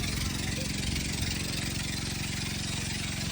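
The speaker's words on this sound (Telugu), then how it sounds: "పడవలో కదా సౌండ్ అలాగే వస్తుందంట" A boat engine chugs steadily on the Godavari river, a close, continuous low throb with a fast regular beat that holds even throughout the short stretch.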